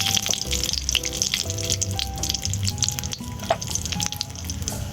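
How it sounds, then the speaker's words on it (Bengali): Sugar frying in oil in a pan while cooking gab leaf dalna, a steady close sizzle with faint clinks of stirring throughout. "অল্প পরিমাণে চিনিটা দিয়ে দেব। নামিয়ে নেব, চিনিটা ভালোভাবে তেলের সাথে মিশিয়ে যায়।"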